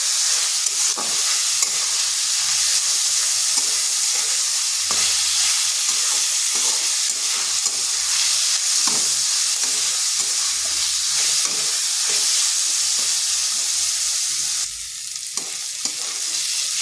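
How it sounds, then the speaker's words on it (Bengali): Soaked lentils stirred and fried in a pan for a water spinach recipe, a loud, close, continuous sizzle with regular scraping stirs and no voices. "এইভাবে বেশ কিছুক্ষণ ডালটাকে ভেজে নিতে হবে।"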